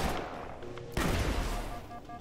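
Rapid bursts of sci-fi gunfire from the top-down shooter Halo: Spartan Assault crackle in dense volleys, with a sharper, louder burst about a second in and steady firing continuing after it.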